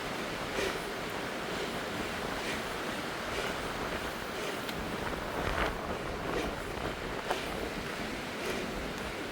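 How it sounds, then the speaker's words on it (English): Strong, steady wind buffets the microphone at a mountain summit on a cold, sunny day, a continuous loud roar with slight gusting swells and no voices. "Very windy, very cold day in spite of the sun."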